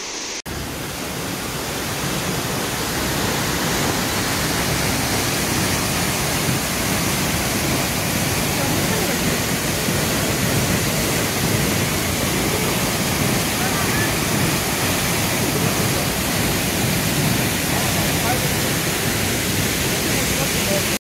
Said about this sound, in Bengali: ওয়াটারফলসের আওয়াজ কিন্তু গাড়ির পার্কিং থেকেই শোনা যাচ্ছে